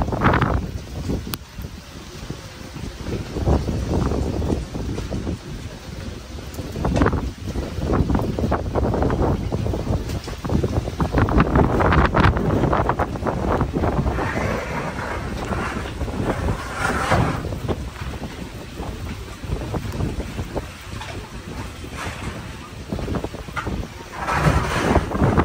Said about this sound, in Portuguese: E tá ventando.